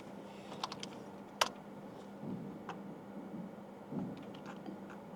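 Keys clatter on a computer keyboard as a Java compile command is entered at a command prompt, a short run of close, light clicks over a low steady hum.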